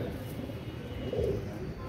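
Soft, low pigeon cooing murmurs close by, with a faint rustle in the background.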